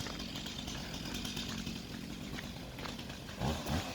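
A chainsaw cuts trees during a storm, its engine droning steadily at moderate distance with brief revving surges near the end, amid a rough windy background.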